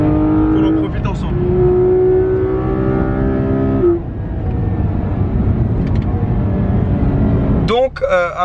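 A Porsche 911 GT3 RS engine on a race circuit, loud and close from inside the car, holding a high rev with rising gear pulls, a brief lift, then a sharp rev climb at the end.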